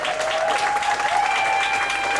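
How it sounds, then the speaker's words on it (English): Brief burst of audience clapping for performers at a comedy and musical night in a Ubud venue, loud and continuous for about two seconds, with a steady tone and some murmuring mixed in. "give them a round of applause for first Derek,"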